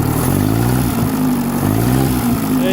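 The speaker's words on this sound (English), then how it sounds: "You can hear that from the engine sound. Sounds really nice." A rebuilt Atomic 4 marine engine revs smoothly: a loud, close, continuous motor drone that rises and dips in pitch a few times with no voices.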